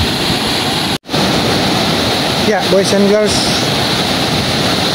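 Surf on the shore near Jimbaran beach in Bali, a loud, continuous wash of breaking waves with wind buffeting the microphone and a brief dropout; someone speaks briefly partway through.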